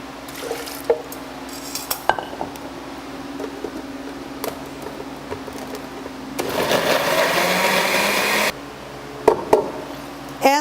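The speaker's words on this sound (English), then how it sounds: "we're going to do it on the blender" A blender roars loudly for about two seconds, blending salsa for tamales, surrounded by kitchen clatter and small clinks before and after.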